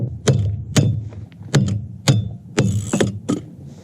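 Ratchet wrench working on a van, a series of sharp mechanical clicks and thunks spaced about half a second apart, close and fairly loud with no talking.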